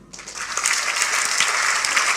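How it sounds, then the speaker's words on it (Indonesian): A congregation breaks into applause during a church sermon, steady clapping from many hands that swells quickly and holds for a couple of seconds. "Tepuk tangan dulu."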